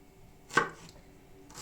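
A knife strikes a cutting board once, loudly and close, while chopping homemade bell pepper for a salad, followed by quiet and a faint second tap at the end.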